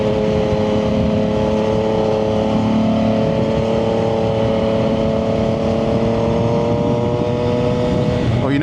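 A Triumph 675SS motorcycle with a full IXIL exhaust is ridden, its engine holding a steady, droning tone with wind rush for most of the stretch, then rising in pitch as it revs up at the end.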